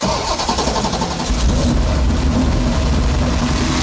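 A 9.3-litre perfectly tuned V8 in a 2200 hp car cranks and fires, its loud, dense roar settling into a steady, rumbling idle that fills the whole clip with no talking.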